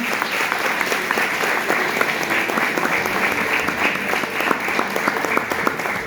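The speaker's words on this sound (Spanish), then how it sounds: "Aplausos para usted, muy bien." A church congregation applauds at a New Year's Eve service, dense sustained clapping from many hands filling the room at a steady, loud level throughout.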